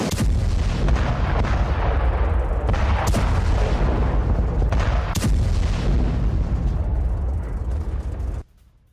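Hammer guided bombs exploding in an air strike on a building, with continuous heavy rumbling booms and several sharp blasts over nine seconds before cutting off abruptly.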